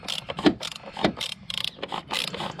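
A ratchet wrench clicks in short, uneven bursts, close up, tightening the oil filter housing on a Volvo D5 diesel engine, with a few brief pauses between strokes.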